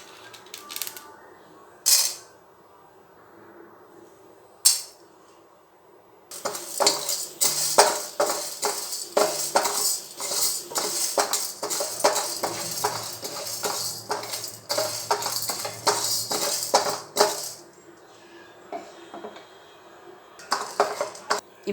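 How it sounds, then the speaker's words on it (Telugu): Chana dal and urad dal dry-roast in a pan without oil, with rapid metallic scraping and clinking as a spatula stirs the dry lentils, loud and busy through the middle after a few isolated knocks at the start. "ఇప్పుడు ఇవన్నీ కూడా ఒక్కొక్కటి మనం డ్రై రోస్ట్ చేసుకోవాలి"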